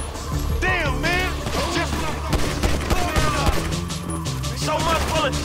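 Rapid bursts of gunfire and crashing impacts from the GTA V video game, loud and dense, overlapping with game character voices shouting throughout.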